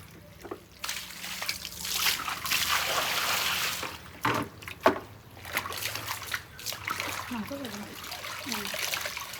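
Water trickles and splashes as newborn clothes are wrung out by hand, with intermittent dribbles and sloshes over a few seconds while people talk nearby.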